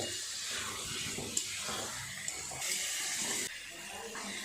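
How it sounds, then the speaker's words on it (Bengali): Water poured into a pan of potato curry simmering with spices, a steady rushing splash and hiss, close and fairly loud, with a brief louder surge near the end. "জল দিয়ে দেবো।"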